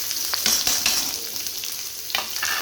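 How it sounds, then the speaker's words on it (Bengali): Sliced onions dropped into hot oil crackle and sizzle up close, with bursts of spitting and a few scraping stirs in an uneven rhythm, and no voices. "তেলটা গরম হয়ে গেছে, এবার আমি পেঁয়াজগুলো দিয়ে দেব।"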